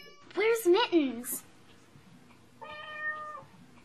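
A kitten meows in a few rising and falling cries, then gives a longer, steadier call after a pause, close and fairly clear over a quiet room.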